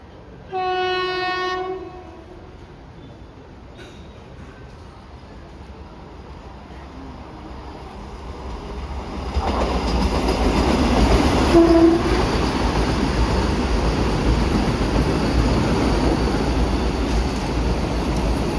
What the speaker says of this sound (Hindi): तो आ चुकी है वंदे भारत एक्सप्रेस।